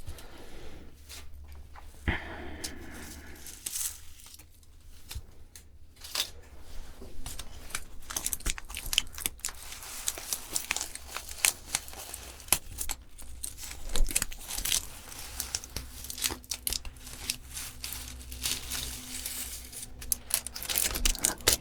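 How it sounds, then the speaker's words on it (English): Hair foils are peeled and pulled off a client's hair in a salon, with close, continuous crinkling, rustling and tearing foil sounds and no talking. "We can already remove the foils."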